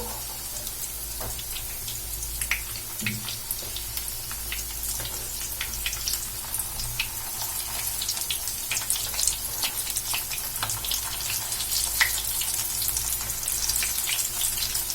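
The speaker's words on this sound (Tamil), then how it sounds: "நல்லா மீடியமான ஃப்ளேம்ல வச்சுட்டு 2 சைடும் நம்ம ஃப்ரை பண்ணி எடுத்துக்கலாம்" Patties of red poha snack fry in hot oil over a medium flame, a steady close sizzle with dense crackling pops throughout, no voices.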